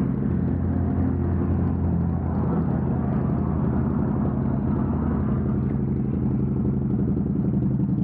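A 2020 Harley-Davidson Road Glide Special with upgraded suspension rumbles steadily as it rides off, a continuous loud low engine drone with road noise and no voices.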